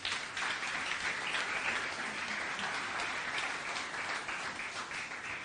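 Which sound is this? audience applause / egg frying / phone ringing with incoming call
audience applause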